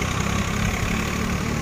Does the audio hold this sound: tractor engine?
yes